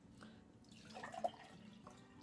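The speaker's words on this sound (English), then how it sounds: "So I'm going to go ahead and pour some water in." Water trickling and dripping as it is poured into drinking glasses, set up as homemade musical cups to be struck with a spoon and chopstick; a soft, faint splash and a brief drip.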